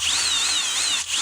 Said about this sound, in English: With this milk jug, I'm going to drill 3 holes in the bottom.